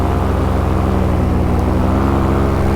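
A small aircraft's engine drones steadily and loudly during a low pass on a go-around, an even, sustained hum close by with no voices.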